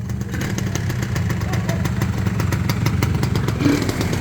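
A 1990s Kawasaki Stella motorcycle engine idles steadily nearby with an even, soft rumble and light rhythmic valve ticking throughout.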